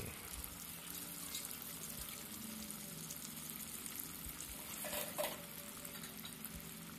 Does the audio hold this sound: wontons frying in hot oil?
yes